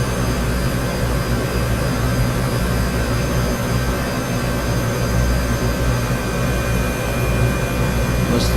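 A helicopter engine runs in a flight simulator game, a steady, loud turbine whine and rushing drone that continues unbroken throughout.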